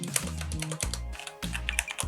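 Keys clatter on a Bloody S510N mechanical keyboard in quick bursts of clicky, moderately quiet keystrokes, close up, with brief pauses between runs of typing.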